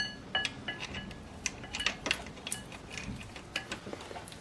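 Light metallic clicks and ticks from a ratchet and socket as a bolt is threaded by hand while fitting a serpentine belt on a BMW E36 with the M52 engine, irregular and close, with no talk.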